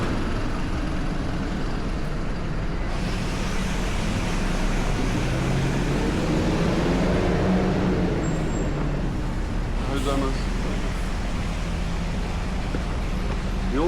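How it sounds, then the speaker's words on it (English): A bus idles and rumbles loudly on a street near Nagasaki's Chinatown, its low engine drone steady and close amid passing traffic, with a brief squeal partway through. "oh, the bus is noisy"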